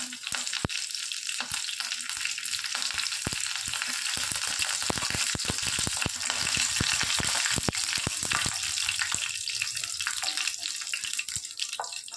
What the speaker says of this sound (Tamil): கடலைப்பருப்பு உளுத்தம் பருப்புங்க நல்லா பொரியட்டும்